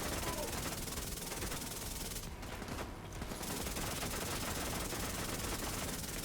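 A Chatterbox SMG sprays rapid automatic fire at armored tanks in The Division 2, a dense, loud, relentless rattle that dips briefly in the middle before resuming at full intensity.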